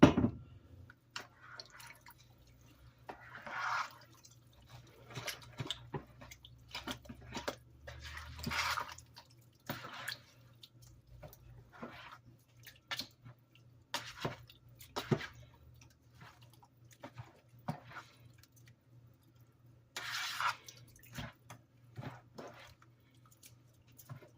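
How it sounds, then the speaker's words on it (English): Quiet, intermittent trickles and drips of water poured in small splashes into a pork chop and yellow rice casserole, with soft wet squishing between, over a faint low hum. "Now, I'm going to add my water a little at a time."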